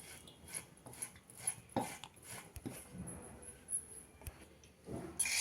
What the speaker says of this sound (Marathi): बटाट्याची सालं काढून घेतली आहेत आणि जाड किसणी निमित्त आता किसून घेणार आहे